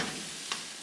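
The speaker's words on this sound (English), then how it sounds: "Give this a flip." A buffalo chicken quesadilla with diced jalapenos sizzles in a pan just after being flipped, a loud, steady, close frying hiss with a brief scrape partway through.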